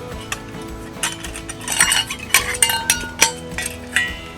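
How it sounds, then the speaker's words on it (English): Metal parts of a gasifier camp stove clink and rattle as it is handled and set up outdoors, with a series of sharp close knocks and scrapes. "Put all this stuff away. Here's my gasifier stove."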